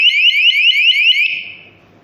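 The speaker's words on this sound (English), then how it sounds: "Somebody open door or window, the door sensor host and stripe is separated, and then it is alarming." A KERUI D1 120 dB door and window alarm blares a loud, rapidly pulsing electronic warble close by, then cuts off and leaves faint background noise.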